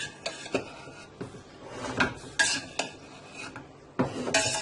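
Biryani being mixed in a pot in a home kitchen. Scattered scrapes and clinks of a spoon against metal come in uneven bursts, close and fairly quiet, with no speech.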